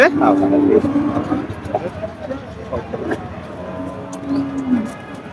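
A cow moos in a long low call near the start, then again faintly later, amid a busy outdoor cattle market crowd in Bangladesh with chatter and traffic.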